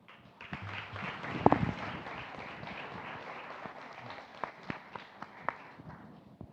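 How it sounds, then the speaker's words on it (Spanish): A studio audience greets guests with faint, scattered applause, a dense patter of claps with a few sharper slaps standing out as it tapers off. "Un aplauso para nuestros invitados."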